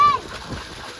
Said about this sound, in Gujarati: પાણીનો આપણે ડાટો ખોલ્યો છે, પાણી આવે છે ફૂલ